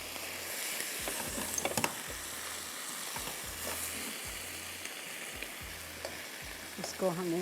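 Chopped onion fries in a pan, with a constant hiss of oil and regular scraping strokes of a spoon about every second. The sizzle is close and even, with no talk.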